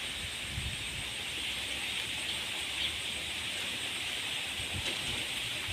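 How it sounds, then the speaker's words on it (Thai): Rain keeps falling in a constant, even hiss, with a few soft low thuds near the start and no talking heard over the steady downpour. "ฝนก็ยังลินอยู่นะคะ ยังไม่หยุดตกเลย"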